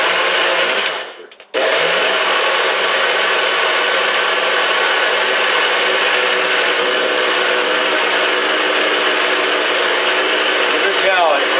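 A NutriBullet blender pureeing peeled, cored apples into apple sauce: a loud, steady high-pitched motor whir that cuts out briefly after a second, then restarts and runs continuously to the end.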